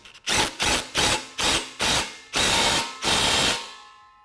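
Ratchet wrench tightening the exhaust tip clamps on a 2018-2023 Mustang GT during an AWE Touring Edition cat-back exhaust install: seven close, loud bursts of rapid clicking, the later strokes longer, with no talk.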